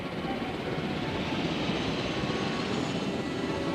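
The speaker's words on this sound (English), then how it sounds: "ACU helicopter, we are going to fly it." ACU helicopter in Jurassic World Evolution, a constant broad rotor and engine roar at steady moderate level, alone without talk.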